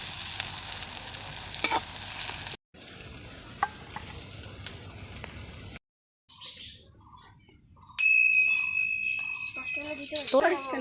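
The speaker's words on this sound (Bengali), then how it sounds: "দিয়েছি মাছের তেলগুলো কাঁটা বেগুনগুলো দিয়ে দিচ্ছি" Eggplant pieces frying in leftover rohu fish oil with ground chili and ginger paste, a steady close sizzle that cuts out briefly and returns with sharp crackling, with faint bird chirps in the background.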